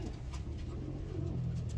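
A racing pigeon coos softly while being handled up close, a low continuous murmur running through the whole moment with no one speaking.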